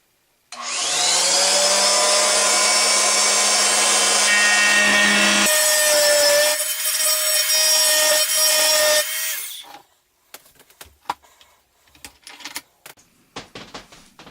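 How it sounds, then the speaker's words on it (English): An oscillating saw buzzes loudly and steadily as it cuts slits into wooden dowels, its high whine shifting pitch midway before stopping, followed by scattered clicks and handling knocks. "take my oscillating saw and make a slit in the top and the bottom of each of these two dowels"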